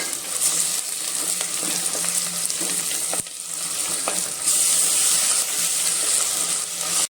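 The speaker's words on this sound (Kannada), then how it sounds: "ನಾವು ಶುಂಠಿ ಬೆಳ್ಳುಳ್ಳಿ ಪೇಸ್ಟ್ ಎಲ್ಲ ಹಾಕಿ ಫ್ರೈ ಮಾಡಿದೀವಿ" Onions and ginger garlic paste frying in a pan for egg biryani, a steady close sizzle with stirring scrapes throughout and no talk.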